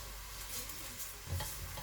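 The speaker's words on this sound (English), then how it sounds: "So I'll turn these onions until it's well fried," Dense, close sizzle of frying fills the moment, with a muffled scrape as the food is stirred around the pan.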